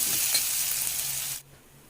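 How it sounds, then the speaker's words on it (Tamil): Onions and tempering spices fry in hot oil with a loud, dense, continuous sizzle close by, then drop abruptly to a faint low hiss near the end. "ஸோ இதெல்லாம் நல்லா ஃப்ரை ஆகட்டும்."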